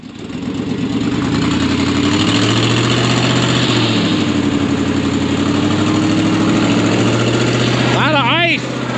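A Chevy's engine runs loud and steady on an icy road during an ice storm, a constant close drone with rumbling tones throughout and a brief higher warble near the end.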